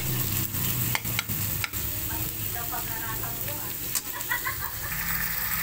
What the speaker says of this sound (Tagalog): nilagay na po natin yung ating bawang, sibuyas, halo-haluhin